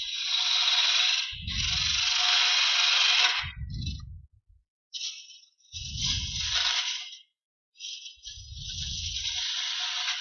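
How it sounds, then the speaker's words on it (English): A parting tool cuts into wood spinning on a wood lathe while a witch figure is turned. Four or five loud, raspy scraping passes come up close, each with a low rumble beneath, separated by brief quiet gaps. "I'm going to use this parting tool to start it"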